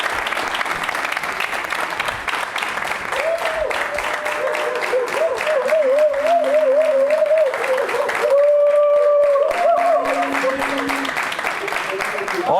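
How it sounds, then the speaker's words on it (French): A game show studio audience applauds a contestant who was hailed as king of kings despite a wrong answer, a sustained wash of clapping running throughout while a host talks and musical tones sound over it. "Merci de l'applaudir."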